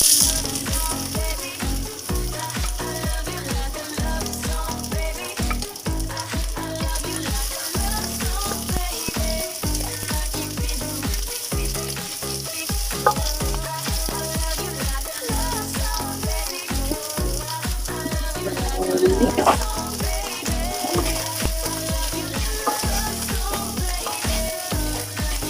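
Chopped onion frying in a pan for beef udon, stirred with steady, busy scraping and clattering strokes over a continuous close sizzle, with a louder burst of stirring near the end.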